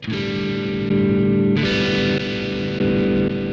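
An electric guitar plays a lead through a heavily distorted Roland Cube amp, with sustained, buzzing notes that shift pitch a few times. There are no voices.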